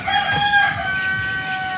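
Chickens cluck while a rooster crows on a farm. The crow is loud and close, over steady clucking and faint background noise in a short burst.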